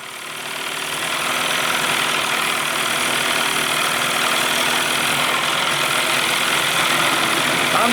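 A 1989 Evinrude 25 hp outboard engine, suffering from a meltdown fault, runs loud and close, rising briefly at the start and then holding a steady, continuous drone.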